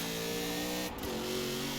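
A V6 race engine of an Alfa Romeo 155 Q4 in Forza Horizon 4 holds high revs in a loud steady drone, with a brief dip and recovery midway.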